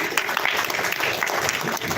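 An audience at a talk session gives a steady patter of clapping for about two seconds, dense and fairly close.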